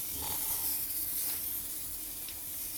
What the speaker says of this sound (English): Go ahead and spray some on a piece of cardboard